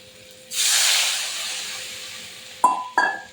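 Water poured into a hot pan of frying potatoes bursts into a loud steam hiss that slowly fades, followed by two sharp metallic clanks near the end.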